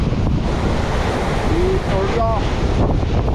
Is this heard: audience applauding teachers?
no